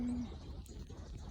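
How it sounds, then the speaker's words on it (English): Pigeons or doves in a cherry blossom setting give a brief low coo at the start, followed by a faint outdoor bird murmur against steady background noise. "Oh, the birds."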